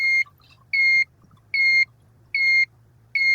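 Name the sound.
buzzer beeping on a biomass water heater temperature controller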